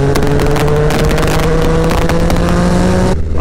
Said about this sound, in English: Look, this car going to overtake me.